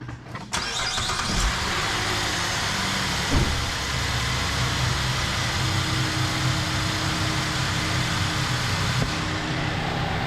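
A car engine cranks and fires up, then settles into a steady, loud idle during a coolant flush while the cooling system is bled, with a constant low rumble and hum and no talking.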